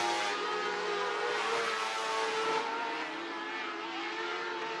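Dirt track race cars roar around Needmore Speedway in Norman Park, Georgia, one coming out of turn four, a loud, steady engine drone that holds throughout.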